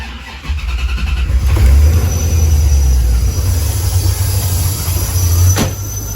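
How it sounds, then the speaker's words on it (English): A 1992–1996 C4 Corvette engine cranks and catches, then settles into a loud, steady, deep idle rumble close by, with a brief sharp click near the end. "Clutch in, make sure it's in neutral, and then start."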